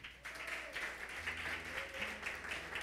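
A church congregation applauds together, a steady wash of clapping hands that fills the room at a moderate distance and continues for several seconds.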